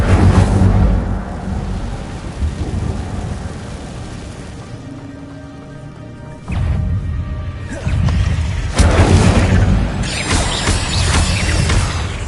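Incendio fire spell cast in the Hogwarts Legacy video game: a loud, dense rumbling roar with crackling texture, dipping quieter midway, then erupting again in two sudden close bursts that sustain to the end, with no talking.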